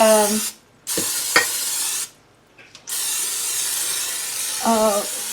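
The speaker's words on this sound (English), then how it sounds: "the first thing I'm going to do is spray my slow cooker" Bursts of cooking spray hiss nearby inside a slow cooker, two long sprays separated by short pauses, with a couple of faint clicks between them.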